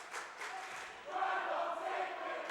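The Lancer school band and crowd cheer at a St. Francis vs St. Ignatius high school boys basketball game, a faint, distant roar that swells midway and holds steady.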